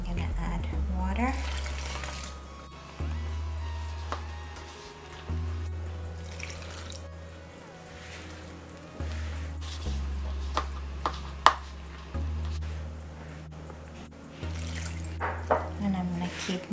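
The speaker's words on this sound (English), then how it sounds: "I'm gonna add water." Water poured from a kitchen tap into a bowl of flour, baking powder and oil for Guyanese oil roti dough, running in several short bursts with drips and clinks, while a voice talks intermittently.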